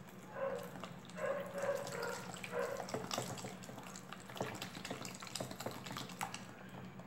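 Water pours from a tap into a container, a steady close splashing and trickling that shifts in pitch as it fills, heard alone while making concentrated fabric softener.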